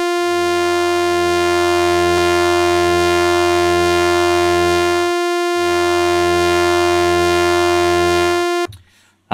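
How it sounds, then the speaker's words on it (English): Bass Station 2 synthesizer set to ring modulation on one oscillator, a sustained, steady metallic buzzing tone rich in stacked overtones, held loud for about eight seconds with a brief dip midway before cutting off abruptly. "So we switch it to ring modulation and it sounds like this."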